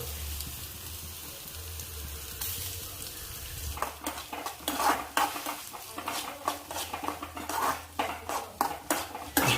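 Grated coconut roasting in oil in a pan while a spoon stirs it, with rhythmic metallic scraping and clanking against the pan over a low sizzle, close and fairly loud, growing busier after a quiet start.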